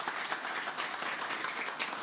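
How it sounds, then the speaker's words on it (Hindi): Audience applause fills a farewell and certificate ceremony for a mobile telecom training batch, a steady wash of many hands clapping at moderate distance for the full stretch, with no voices over it. "एक बार जोरदार ताली बजाओ"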